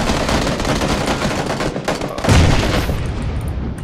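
Video game gunfire in a multiplayer shooter, a steady dense rattle of rapid shots throughout with a heavier burst about midway, close and loud.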